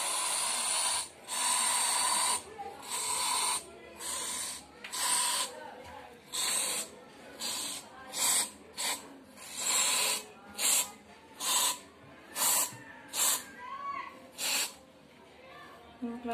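Insect spray hisses in repeated short bursts at a swarm of large winged ants under a home; roughly a dozen loud puffs come close together, sometimes longer blasts, with faint talk and background noise between them.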